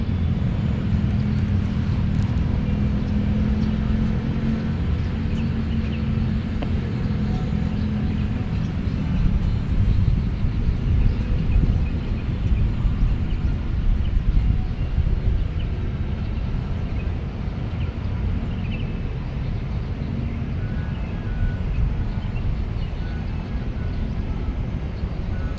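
A Speedybee Master 3 FPV drone carrying a DJI O4 Pro flies outdoors, its motors giving a loud, continuous whirring drone mixed with wind rush that stays steady throughout.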